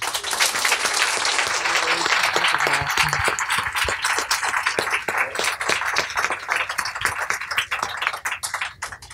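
An audience applauds to welcome Mary Norris and Deborah Tannen at a book talk, a loud burst of clapping from a crowd that gradually thins and fades toward the end.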